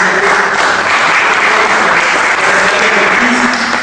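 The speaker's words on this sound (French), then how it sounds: "On peut l'applaudir" Loud, dense audience applause fills a business evening event, a continuous roar of many hands clapping at a steady, even level throughout.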